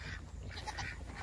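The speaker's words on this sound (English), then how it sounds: "There's the ducks. Everybody got in." Faint, distant quacking from a few ducks, short honking calls over a low background hum.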